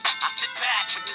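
An iPhone ringtone plays up close, a bright chiming melody of repeated short tones and a sustained note, loud and clear with no voices.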